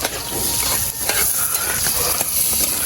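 Red onion hits a hot pan with a loud, steady sizzle and crackle that stays dense throughout, with faint scraping of stirring mixed in and no voices.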